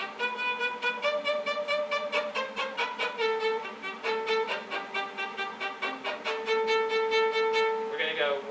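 Bowed string instrument plays a spiccato sample in a lesson setting: a steady stream of short, bouncing detached notes in even rhythm, clear and close, with no talking over it.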